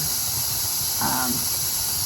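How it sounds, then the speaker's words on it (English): Constant high hiss of steam venting from a pressure canner set on exhaust while canning beans, steady throughout, with a brief low murmur partway through. "the steam is coming from here"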